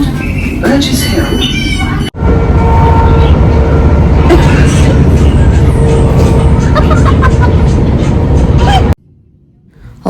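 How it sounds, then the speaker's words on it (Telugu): Interior of a moving train bound for Brighton near London, a steady loud rumble running throughout with voices and other sounds over it, cutting off abruptly near the end. "ఫైనల్లీ ట్రైన్లో ఉన్నాము"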